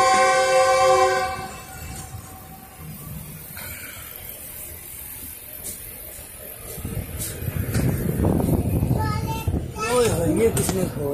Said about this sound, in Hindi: दूसरी तरफ से अप ट्रैक के ऊपर एक ट्रेन आ रही है।